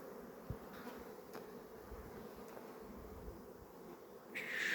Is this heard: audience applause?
no